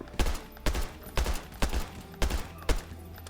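Gunfire in the VR shooter Hard Bullet comes in six evenly spaced bursts, each a loud close blast with a short tail, with no speech.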